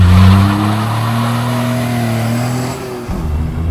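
A VW Fox launches hard from a standstill on a soaking wet road, its engine note climbing loud and close in one long pull before a gear change near the end, with no talking over it.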